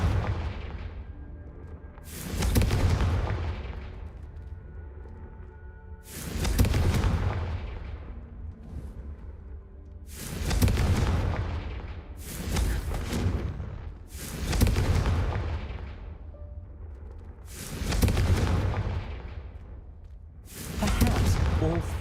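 Blasting-curse explosions in Hogwarts Legacy boom one after another in a slow, uneven series of heavy, loud blasts, each followed by a rumbling decay under game ambience.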